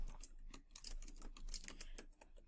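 Fingers tapping quickly on a computer keyboard, a soft, steady patter of keystrokes close by with no voices.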